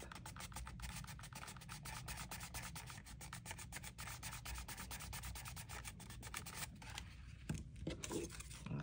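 Paper is pinched and rubbed between fingers while shaping petals for a large handmade paper rose, giving a close, steady dry rustling and scratching with quick rhythmic strokes and no speech.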